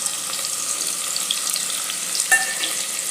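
Chopped onions hit hot oil with cumin seeds in a pressure cooker for pav bhaji, making a bright continuous sizzle. A single metallic clink sounds partway through, with no speech.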